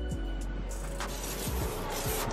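Aerosol spray paint can hissing onto a car outdoors, short bursts of hiss over steady background noise with a few faint clicks.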